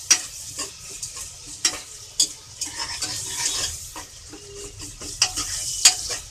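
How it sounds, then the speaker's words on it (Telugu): Chopped onion fries in a pan for a tangy curry, with steady sizzling broken by sharp scrapes and clinks of a spoon stirring against the metal, close and fairly loud, no talking. "కొంచెం ఫ్రై చేద్దాము ఆనియన్ని ఆనియన్ వేగనివ్వండి కొద్దిగా"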